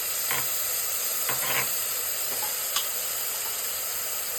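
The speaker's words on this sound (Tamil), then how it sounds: "அரைச்சி வச்ச தக்காளியை போட்டுக்கணும். போட்டுட்டு நல்லா ஃப்ரை பண்ணுங்க" Tomato paste sizzles and hisses steadily in a hot pan while cooking goat liver biryani, with a few faint stirring scrapes over the continuous frying noise.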